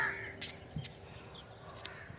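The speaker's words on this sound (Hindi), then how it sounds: "ये अब 4 चिड़ियाँ हैं और क्रो बैठा है इधर पेड़ पर, दरख्त पर, ट्री पर" Crow perched in a tree cawing a few times at a distance, faint against quiet outdoor background with other small birds about.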